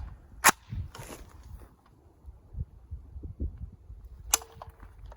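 Two sharp shots from an FN FS2000 rifle, one early and one near the end, with faint clatter and handling noise between them and no speech.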